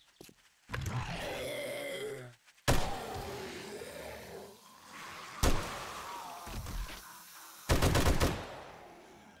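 Gunfire from a gun in the video game 7 Days to Die, several sharp, loud shot bursts spaced apart, with a grunting voice and other game noise between them.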